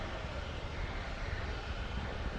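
An Atlas V rocket's first stage engine roars during launch, a dense, continuous broadband rumble with a heavy low end, steady and unbroken throughout.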